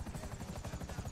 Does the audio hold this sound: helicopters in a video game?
yes